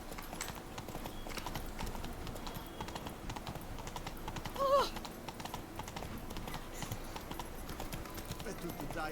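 Roach, the horse in The Witcher 3, trotting with a steady, fairly close clip-clop of hooves over background game ambience, while a voice speaks in the middle.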